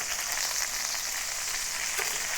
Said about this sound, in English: When frying the chicken, you have to be patient.